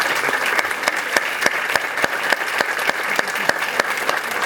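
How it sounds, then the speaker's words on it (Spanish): Loud applause from a conference audience at a university lecture, dense clapping sustained evenly throughout with occasional sharper individual claps standing out. "Unos fuertes aplausos también, por favor."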